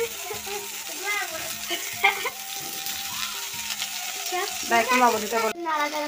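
Children cook for themselves, and food fries in a pan with a steady sizzle and stirring clatter while voices talk over it.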